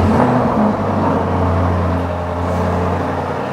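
A Lamborghini Urus engine idles with a steady low rumble and faint whir, running continuously at close range without revving.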